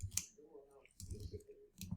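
A few light clicks from a computer keyboard come in short bursts, quiet and close, as an email address is typed.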